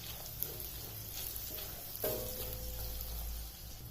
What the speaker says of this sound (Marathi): 2 हिरव्या मिरच्या, थोडासा कढीपत्ता, याला थोडंसं परतवून घेऊ।